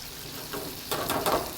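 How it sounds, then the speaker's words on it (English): Green onion sautéing in a pan for chicken bruschetta, a steady soft sizzle that swells into louder crackling bursts near the end, close up with no voices. "So we got a nice saute going on there"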